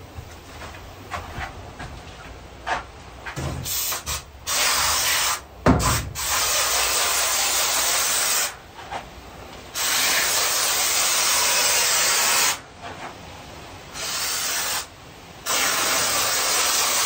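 Hissing bursts from a spray nozzle fitted with a spray tip in a cramped space, several long sustained blasts of several seconds each with short gaps and a few brief puffs between.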